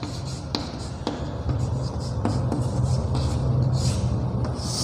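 Chalk or marker scratching across a classroom board in a lesson on irrigation and drainage, with short strokes and taps over a steady low room hum; no voices in the stretch.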